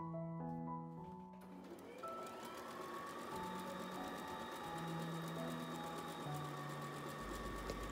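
Sewing machine backstitching a fabric scrunchie, a quiet, steady mechanical whir running throughout, with music playing over it.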